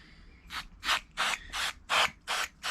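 A spray can hisses in seven short, evenly spaced bursts, each a close, airy spurt of glue sprayed onto one side of a shot glass storage box.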